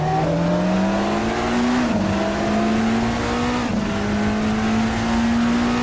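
A 1999 Fuji Le Mans 1000km race car, with BMW and Porsche machines, screams past at full throttle, engine note rising steadily with quick gear shifts, loud and close, no talk.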